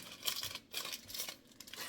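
Sheet of puff pastry unrolled from its baking paper in a home kitchen, giving a few close, soft crinkling and tearing rustles in bursts with short pauses and no talk.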